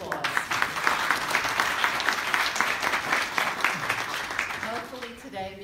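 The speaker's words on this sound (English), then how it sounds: "So can we give them a round of applause?" Audience applause for accepted students at a 2018 accepted student open house, steady dense clapping filling the room throughout, with a voice briefly emerging near the end.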